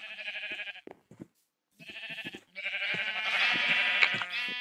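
Sheep in Minecraft bleat in several clear wavering calls, separated by a short silence, close and fairly loud with no talk.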